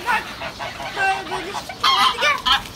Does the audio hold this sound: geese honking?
yes